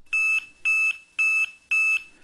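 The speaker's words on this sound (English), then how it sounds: "as a vehicle enters the zone, it changes colour and an audible alarm is triggered to alert the operator" A Blighter radar zone alert sounds as an audible alarm: four evenly spaced, steady electronic beeps, each lasting about a quarter second, loud and clear with nothing else heard.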